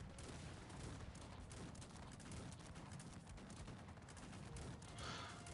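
Cannon artillery volleys in the real-time strategy game Cossacks 3, a dense, continuous barrage of booms and crackling fire mixed with clattering hooves, steady and loud throughout.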